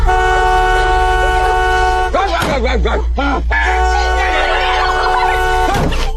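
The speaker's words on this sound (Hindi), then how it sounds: "डर के मारे लड़की जल्दी से कार का हॉर्न बजाती है" A car horn blares in a few short honks and longer blasts over a steady engine drone, loud and close.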